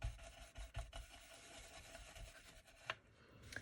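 A distress brush rubs Walnut Stain Distress crayon across a crafting panel, giving soft, close scratchy strokes in an uneven rhythm with a few sharper scrapes toward the end.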